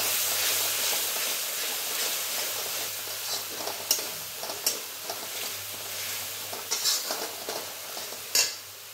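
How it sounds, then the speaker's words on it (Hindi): Spice masala with salt is stirred and cooked for a suran curry, a steady sizzle under repeated spoon scrapes and clinks against the pan that grow sharper toward the end, with no voices. "मैं इसे नमक डाल दूंगी और इसे चलाऊंगी थोड़ा इसे चार से पाँच मिनट तक मसाले को पकाऊंगी"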